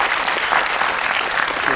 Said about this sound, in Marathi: परत एकदा जोरदार टाळ्या झाल्या पाहिजे.